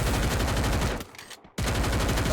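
Rapid bursts of video game gunfire crackle loudly during a competitive league match, broken by a brief quieter pause before the shooting resumes at full intensity.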